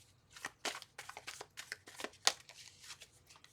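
Quiet, close-up tarot card shuffling in a series of brief riffling bursts, with one sharper snap partway through.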